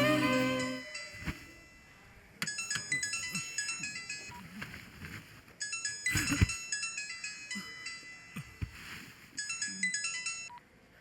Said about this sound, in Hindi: मैं तुम्हें ही फोन करने वाला था और तुम्हारा फोन आ गया।